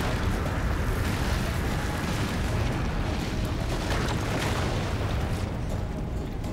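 Bomb explosion in the video game Darksiders 2: a dense, continuous roaring blast with heavy low rumble filling the whole stretch, loud and unbroken, without speech.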